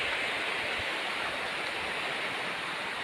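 Water pours strongly over a small weir near home on a misty morning, giving a steady, loud broadband rush that holds unchanged throughout with no voices.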